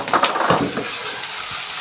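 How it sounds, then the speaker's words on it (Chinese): Dried chilies and Sichuan peppercorns stir-fried in plenty of oil with scallion, ginger and garlic in a wok, a steady close sizzle broken by a few scraping stirs near the start, no talk. "开火炒料。 锅中多多加油，葱姜蒜爆香"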